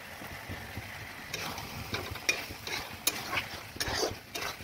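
Soybean chunks fry in a pan with curry leaves as sauce goes in, giving a steady soft sizzle broken by scraping stirs and light clanks of a utensil against the pan, fairly quiet throughout.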